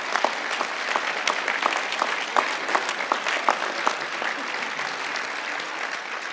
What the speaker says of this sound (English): please, a round of applause for everybody